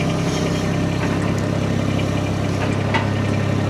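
A vehicle engine idles steadily at lowered revs, a continuous low rumble with a faint knocking texture, close and fairly loud throughout with no talk.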